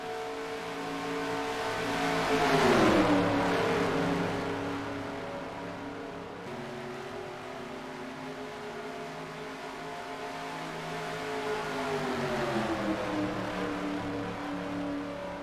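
Race car engines drone steadily on the last lap at Daytona International Speedway, swelling as the cars pass close, fading, then rising again in a second long pass.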